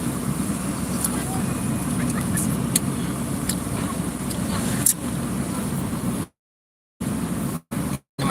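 Road traffic crawling in a jam on the route to Sekumpul, Martapura, with a steady near engine and vehicle rumble, faint passing horns and brief dropouts near the end; people talk over the traffic noise.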